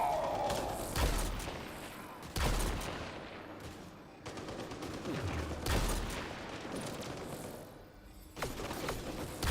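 Gunfire cracks in Mass Effect Andromeda combat, with several sharp shots in separate bursts a couple of seconds apart, some followed by crashing impacts, fairly close.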